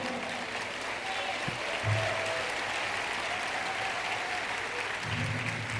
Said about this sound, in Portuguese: Dá um forte aplauso ao Senhor.